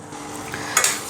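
Spoon stirring a rice flour mixture with papad khar in a pot, soft scraping and swishing that ends in a couple of sharper clinks, close and fairly quiet, with no talking.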